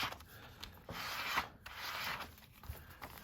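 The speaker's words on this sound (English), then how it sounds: "let me get a little scraper thing. Little card. We'll smooth out the glue underneath." A small card is used as a scraper to smooth glued paper flat inside a boho-style journal, giving soft, close rubbing strokes in uneven bursts with short pauses between passes.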